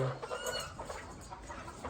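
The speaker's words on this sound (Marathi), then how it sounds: "ह्या दाढीवाली कोंबडी बघू शकता" Bearded country hens clucking close by in short, overlapping calls, with farmyard background noise throughout.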